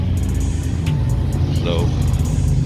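Car cruising along a road on the way to a Lake Anna car show, a steady engine and road rumble heard from inside, with people talking over it.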